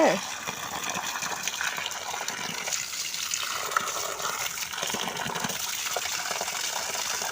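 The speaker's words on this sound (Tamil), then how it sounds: "வெளியில் ஓடுது தண்ணி" Water gushes steadily and runs out in a household setting, a continuous splashing rush that stays fairly even throughout, with faint voices in the background.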